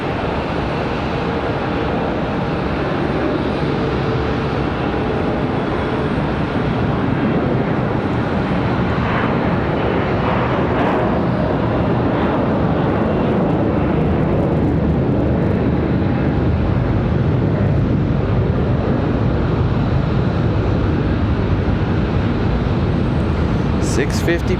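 A Lufthansa Airbus A350-900 departs Charlotte Douglas for Munich, a loud continuous jet roar dominating throughout, with a person talking over the engine noise.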